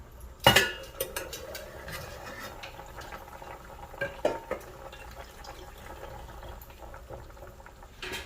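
Parrot fish curry with potatoes cooks in a pot as the lid comes off, a sharp metallic clank followed by a soft steady bubbling simmer and a few light utensil taps, close and quiet with no talking.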